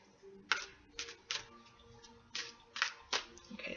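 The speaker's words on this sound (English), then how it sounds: "I'm gonna shuffle and pull the cards now." Tarot cards being shuffled by hand, a series of short crisp riffling bursts spaced irregularly, close and fairly quiet, with no talking.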